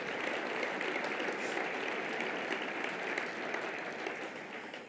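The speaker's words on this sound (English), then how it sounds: "Let's give them another round of applause" Sustained applause from an audience at a charity breakfast honoring cancer survivors, steady dense clapping filling the room for several seconds before beginning to taper.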